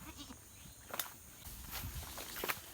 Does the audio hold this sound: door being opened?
no